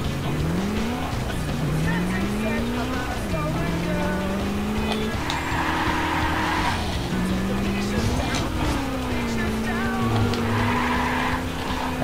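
A car drifting in the racing game Burnout Dominator, engine revving up and down in continuous sweeps with tire squeal layered on top, loud and steady throughout while someone talks over it.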